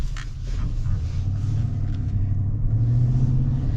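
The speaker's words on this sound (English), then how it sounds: "I like the sound of the V8, it's pretty cool." A 2025 GMC Yukon SUV's V8 engine revs in a low, rumbling swell, heard close and steady for a few seconds with no talking.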